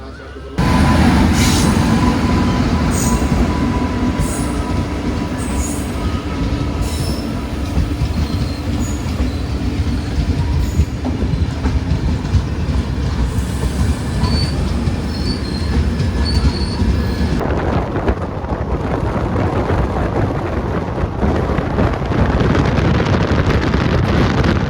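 A passenger train rolls slowly into Kollam Junction with a loud, continuous rumble, wind buffeting and high wheel squeals. The rumble changes near the end as the train nears the platform.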